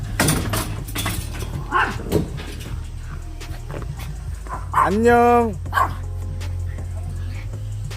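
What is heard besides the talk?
puppies barking and whimpering in a room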